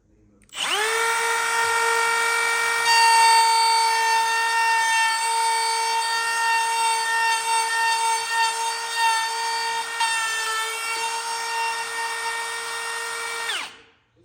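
Cordless router trimming a proud walnut inlay flush with plywood, spinning up with a sharp whine, holding a steady high-pitched scream for about thirteen seconds under light cutting load, then winding down.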